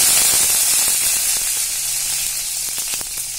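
Dried red chillies dropped into hot oil for a tempering for chow chow mor kuzhambu, giving a loud, steady hissing sizzle up close with faint clicks, no talk.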